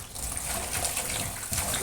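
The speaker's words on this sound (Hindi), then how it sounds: "तो अब मैं इनको 3-4 पानी धो के तो इनको रख दूँगी।" Okra being washed by hand in an open bowl of water gives a steady sloshing and trickling that lasts the whole stretch, fairly close, with no talking.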